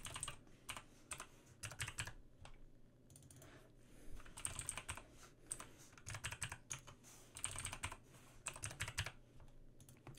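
A computer keyboard clatters as a new MetaMask wallet password is entered, with dense, quick keystrokes in irregular bursts and brief pauses, close and moderately quiet.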